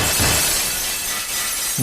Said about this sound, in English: This time there were 2 little shrieks, and more sounds of broken glass.